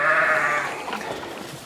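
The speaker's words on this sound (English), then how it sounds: "you heard one of our sheep out there" A sheep bleats on a small livestock farm, a wavering cry heard at moderate distance that fades out over about a second, with faint outdoor ambience behind it.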